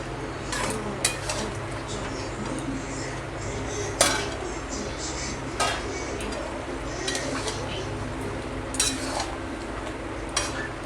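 Potatoes go into a pot of braised Bengali chicken kosha and get stirred, giving scattered metallic clinks and scrapes of a spoon against the pot, fairly quiet and irregularly spaced over a low background hum.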